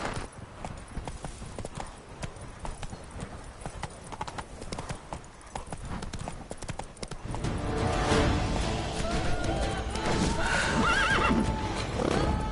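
Galloping hoofbeats of a horse in The Witcher 3: Blood and Wine, a steady clip-clop rhythm that grows louder and denser midway, with neighing and whinnying close by and no talk.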